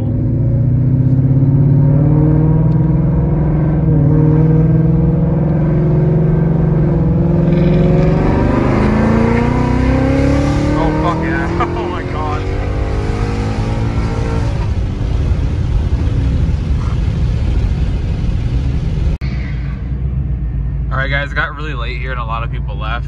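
Drag race cars accelerate hard at the strip, engines roaring loud and close with rising revs and gear changes over the full length, then fading near the end.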